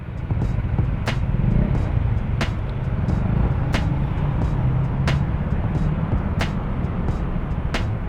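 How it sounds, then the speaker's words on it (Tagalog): Steady road traffic rumble from inside a moving vehicle with motorcycle exhaust, a dense low engine-and-road drone with regular faint ticking throughout, no voices. "Traffic."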